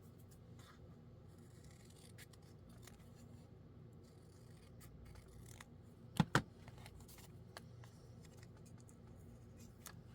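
Scissors cutting orange paper scraps, a quiet room with faint rustling and two sharp close snips in quick succession near the middle, no talking.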